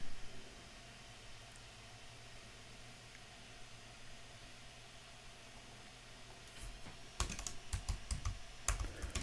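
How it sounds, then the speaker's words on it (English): Keys clatter on a computer keyboard in a quiet room: soft background hiss for most of the stretch, then a quick burst of close typing near the end. "So I'm going to type it in as an attribute."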